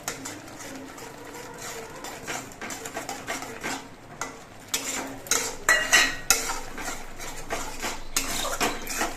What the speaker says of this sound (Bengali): এই আতপ চালের গুঁড়ো অল্প অল্প করে ছিটিয়ে দেব গুঁড়োটা ছিটিয়ে দিতে হবে আর নাড়তে হবে